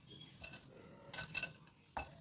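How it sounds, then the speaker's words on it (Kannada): Banana being mashed in a bowl with a utensil for a quick homemade sweet, heard as three separate bursts of soft clinking and scraping against the bowl, faint and close with quiet pauses between. "ಈಗ ಅದನ್ನು ಚೆನ್ನಾಗಿ ಸ್ಮ್ಯಾಶ್ ಮಾಡಬೇಕಾಗುತ್ತೆ."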